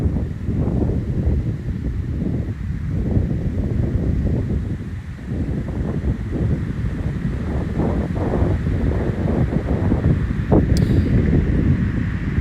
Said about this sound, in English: Ooh, it's windy right now